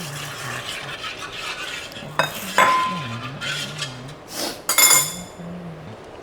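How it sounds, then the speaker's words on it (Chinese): A cooking pot being washed: metal scraping and clattering clinks, with a few loud knocks of the pot against a sink or utensil, over quiet background hum. "我要洗这个锅"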